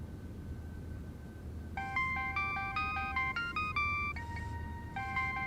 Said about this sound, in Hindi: किसका फोन?